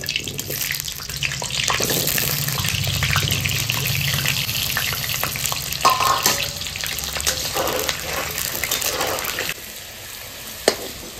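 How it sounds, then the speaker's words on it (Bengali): Potato pieces fry in a large wok until browned, a loud, dense, hissing sizzle running throughout with occasional clinks and pops, easing slightly near the end. "আলুটা লাল লাল করে ভেজে নিচ্ছি"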